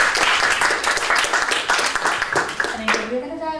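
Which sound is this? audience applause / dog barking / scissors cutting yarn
audience applause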